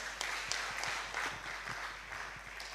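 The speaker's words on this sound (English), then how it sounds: "Please let's give them a round of applause." A room full of people applauding debaters at a youth leadership conference, steady dense clapping heard from a distance that holds evenly for a few seconds.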